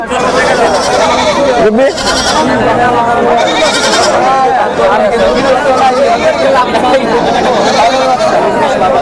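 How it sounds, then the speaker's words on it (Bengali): Goats bleating repeatedly at a busy Hazratpur livestock market in Bangladesh, loud and close amid constant crowd chatter, with people talking nearby throughout. "এদিকে কতগুলো সুতো ছাগল দেখতে পাচ্ছি"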